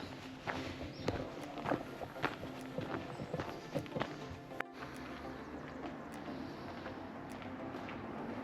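Footsteps crunch along a former railway line trail in the Peak District in a steady, unhurried walking rhythm, close by, with a faint outdoor background and no talking.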